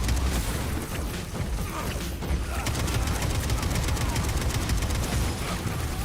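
Explosions and gunfire in the video game Atomic Heart, with dense bursts of rapid fire and booming blasts throughout, a loud, busy battle mix with no clear speech.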